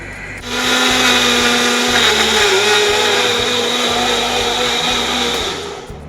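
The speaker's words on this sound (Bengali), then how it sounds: "মিক্সিতে ঘোরাবো পেঁয়াজ বাটা তৈরি হবে" Kitchen mixer grinder whirs up onions into paste, starting abruptly into a loud, steady motor roar with a rhythmic churning pulse, then winding down at the end.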